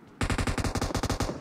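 Rapid automatic gunfire from a battle royale video game, a loud burst of about a dozen closely spaced shots in steady rhythm, heard alone without talk.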